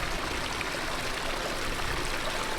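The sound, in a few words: creek water flowing in Death Valley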